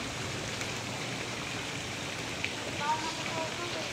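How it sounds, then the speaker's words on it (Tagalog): Shower water pours steadily at a resort, a broad continuous hiss of falling water close by, with faint voices underneath. "Shower dyan, sa likod mo."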